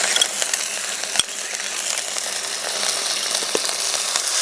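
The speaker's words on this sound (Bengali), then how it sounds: "দইটা দেওয়ার পর খুব ভালো করে নাড়তে হবে।" A spoon stirs whisked homemade yogurt into a pan of katla fish curry, making a close, steady scraping and wet sizzling texture with one sharp knock partway through.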